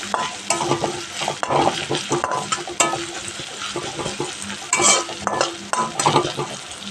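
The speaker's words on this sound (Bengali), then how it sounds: "ছড়িয়ে দিয়ে ভালো করে নাড়তে হবে, এটা লালচে করে ভাজতে হবে।" Chopped onions are stirred and fried in a pan for a fish-head moong dal, with a steady loud sizzle and repeated scraping strokes of a spoon against the pan.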